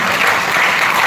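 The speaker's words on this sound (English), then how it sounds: "Please welcome with a round of applause our first keynote speaker" A large audience applauds steadily for a keynote speaker at a forum, a dense, continuous wash of clapping that stays loud throughout the short moment.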